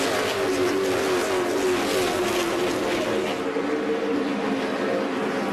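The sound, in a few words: race trucks racing around Eldora Speedway dirt half mile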